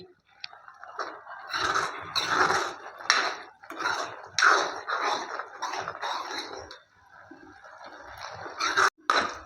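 Boondi being stirred into sugar syrup in a metal pan, giving repeated scraping and clinking knocks in an uneven rhythm, close and moderately loud, for laddoo at home.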